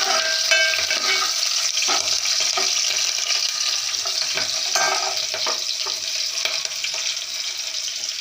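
Urad dal and chopped green chilies fry in a pan for a seme brinjal palya, producing a steady, bright sizzle with frequent clinks and scrapes of stirring over about eight seconds.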